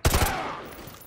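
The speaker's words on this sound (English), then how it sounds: "Roach, take the shot. Go for his leg." A rapid burst of gunfire rings out in Modern Warfare 2, several sharp shots cracking in quick succession before a ringing decay.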